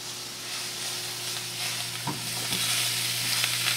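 Spinach sauteing in a pan as nutmeg is stirred in, giving a steady close sizzle and frying hiss with a few soft stirring scrapes, no voices.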